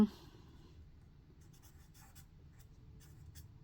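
Pen scratching across paper while a formula is written out, soft close strokes in short bursts over a low background hum, no talking.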